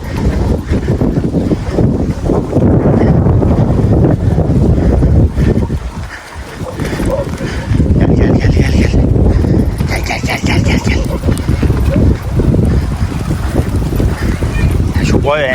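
Heavy wind buffets the microphone in loud, rumbling gusts, briefly easing before returning, with a voice speaking under the roar.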